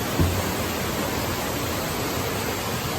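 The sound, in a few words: Kanumantad Falls waterfall in Bohol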